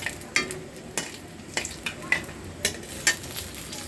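Dried red chilies fry in oil for Malabar spinach greens, a soft sizzle broken by about eight sharp spatula taps and scrapes against the pan.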